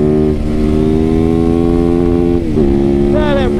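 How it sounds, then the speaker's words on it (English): A motorcycle engine revs loudly and steadily while riding, holding a strong harmonic drone with a pitch rise and shift near the end as it pulls hard. "Pure raw motorcycle"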